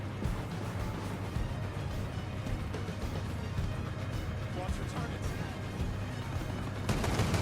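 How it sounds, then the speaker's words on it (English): Gunfire in the tactical shooter Tom Clancy's Ghost Recon Breakpoint, a dense, steady mix of shots and rumbling battle noise running throughout, with a voice speaking over it. "Somebody's shooting me somewhere."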